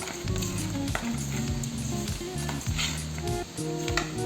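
Fish coated in turmeric, chili powder and salt frying in hot oil, giving a steady, close sizzle that runs continuously beneath rhythmic background music.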